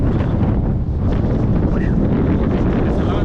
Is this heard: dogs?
no